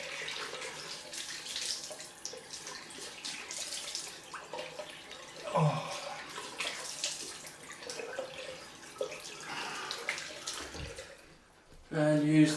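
Cold water running from a tap to rinse after a wet shave, a soft steady splashing stream that stops briefly near the end before resuming louder.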